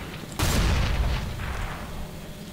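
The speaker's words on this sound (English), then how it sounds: "I brought another flash grenade. Flashbang. Flashbang." A flashbang grenade bursts in a competitive CS:GO match, a sudden loud blast that rings on and slowly fades over the following seconds, with no talk over it.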